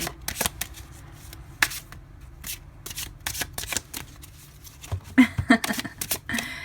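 Tarot cards from a Green Witch Tarot deck on new card stock are shuffled by hand before a card is drawn, giving close, crisp slaps and riffles in uneven bursts with short pauses between them.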